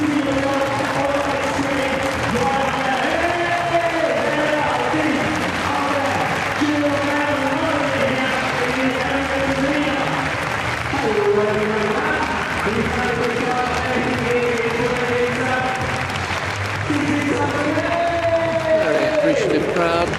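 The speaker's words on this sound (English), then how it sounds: "very appreciative crowd." A badminton crowd at a Commonwealth Games men's doubles match applauds steadily throughout, sustained clapping and murmuring filling the hall while a commentator talks over it.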